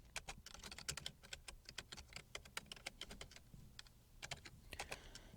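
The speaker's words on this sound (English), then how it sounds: "typing city names, press tab, and typing a number of employees." Typing on a computer keyboard while entering city names and numbers into a table: quick, irregular key clicks, fairly faint and close, with no one speaking.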